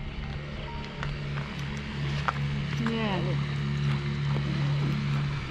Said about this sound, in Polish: Jakaś pani łódką dopływa